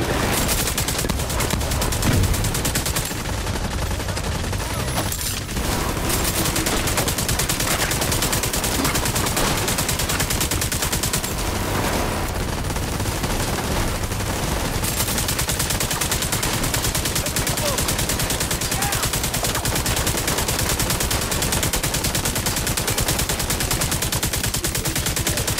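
Sustained gunfire during a firefight in Tom Clancy's The Division 2, dense overlapping automatic bursts and shots continuing loudly across the whole stretch, with brief dips around the fifth and twelfth seconds.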